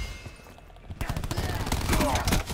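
Rapid automatic gunfire in Call of Duty Black Ops 4 erupts after a short quiet stretch and becomes a loud, dense volley of overlapping shots that lasts to the end, with a voice talking briefly beneath it.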